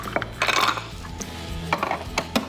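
Ice cubes go into a glass of iced coffee, giving a few sharp clinks and rattles in two short clusters against a quiet background.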